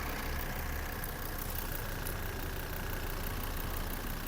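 A Volvo V40 petrol engine idles with a steady, even rumble, constant and close throughout, with no voices.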